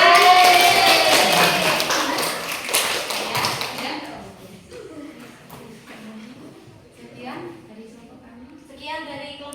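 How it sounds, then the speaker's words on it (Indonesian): Scattered hand claps from a group of schoolchildren in a classroom, brief applause with a few voices mixed in, tapering off as the room settles. "Beri tepuk tangan."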